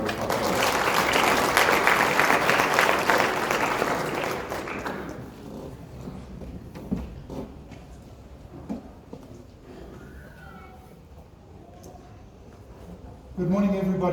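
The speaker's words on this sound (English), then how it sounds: "Can we give him a round of applause?" An audience at a morning talk on the theme Africa for Africans applauds a speaker being welcomed, a dense close burst of clapping for about four seconds that fades out into room noise, with a voice starting at the end.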